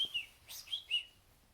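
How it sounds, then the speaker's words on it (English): A small bird tweets inside a cave, four quick, bright chirps spaced apart with brief pauses, fairly faint and close, against a quiet background. "The bird continued to tweet"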